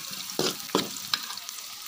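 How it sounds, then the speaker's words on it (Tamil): Onions sautéing in a pan for kootu, a low steady sizzle broken by three short stirring scrapes, close and moderately quiet. "வெங்காயம் நல்லா வதங்கி வருது பாருங்கள்."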